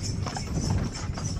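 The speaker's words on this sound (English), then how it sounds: "nice horse right there." A horse's hooves clip-clop along a street on Gili Trawangan, a quick run of close, hollow knocks over a low background murmur, with no speech.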